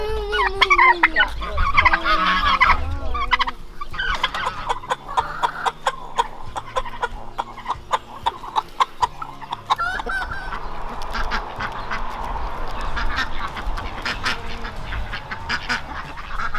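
Leghorn chickens in their backyard pen give repeated clucks and squawks, with many overlapping close calls alongside rustling and scratching throughout.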